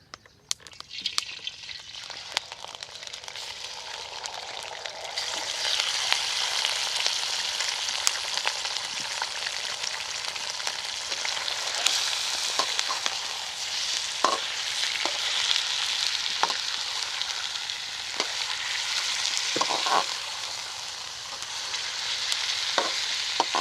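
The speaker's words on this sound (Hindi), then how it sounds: "अब इसी ऑयल में गोश्त डाल लेंगे।" Chicken pieces frying in hot oil in a karahi, a loud steady sizzle and crackle building after a few seconds, with occasional scraping and stirring clicks, no talking.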